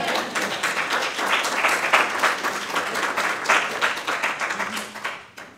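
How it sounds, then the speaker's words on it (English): An audience at a university welcome event applauds warmly, a dense, steady burst of clapping from many hands that swells and then tapers off near the end. "You can clap."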